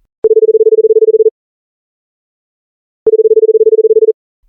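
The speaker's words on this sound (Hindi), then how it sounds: "वह अपने पति सुमित को फोन करती है" A telephone line gives two pulsed, buzzing tone bursts of about a second each, separated by a silent pause, as a call is placed to a husband.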